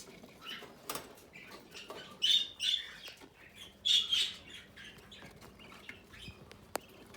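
Cockatiels and lovebirds in an aviary give short, sharp chirps and calls, with a few louder bursts in the middle over a soft, scratchy background of rustling.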